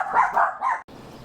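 A small dog gives three quick, close barks in a tight burst, then falls silent as faint indoor background noise continues.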